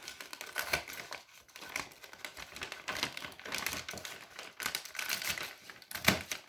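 Scissors cut through a paper bag up close, with crisp snipping and crinkling in irregular bursts and short gaps between cuts, with no talk.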